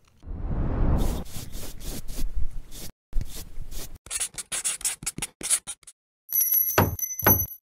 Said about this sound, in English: First things first, I ripped out that beautiful pink carpet.